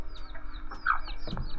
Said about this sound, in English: we all sat around and got entertained by chickens attacking us